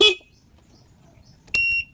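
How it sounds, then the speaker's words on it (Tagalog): A newly wired horn on a Rusi 110 is tested: a short clipped burst at the start, then quiet, then a clear steady honk of about a quarter second near the end, close and loud. "So pag lang natin so na-connection ko na yung so try natin yung busina"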